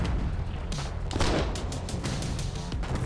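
Artillery firing in the war game Foxhole, a dense barrage of heavy booms and cracks overlapping with no pauses, loud and continuous throughout.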